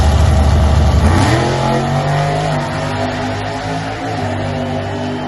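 A race car engine roars loudly and close at full throttle, revving up sharply at the start and then holding a steady, dense drone throughout.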